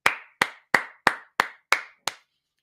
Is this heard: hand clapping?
yes